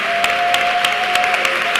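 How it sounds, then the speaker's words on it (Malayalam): A church congregation at a Malayalam Christian service claps in praise, a dense sustained burst of applause with rhythmic peaks, loud and close, with a steady tone running underneath. "വക്കോളം കൈയടിച്ച് സ്തുതിക്കാവുന്നവരെല്ലാം കൈയടിച്ച് സ്തുതിച്ച്"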